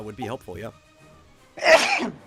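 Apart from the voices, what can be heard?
sneeze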